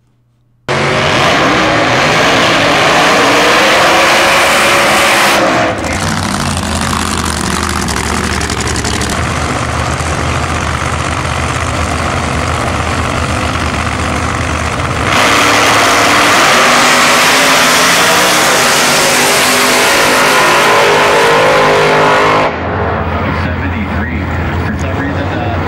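Blown GTO drag race car with a supercharged engine at an eighth-mile outlaw drag race, roaring loud and close for the whole run, with shifting revs and a brief drop near the end.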